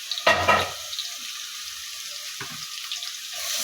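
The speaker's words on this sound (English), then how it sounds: "Now that oil is ready, and I'm just going to put in my onion." Onion dropped into hot oil for spaghetti sauce, giving a loud burst of sizzling at the start that settles into a steady, quieter fry hiss with a brief clink partway through.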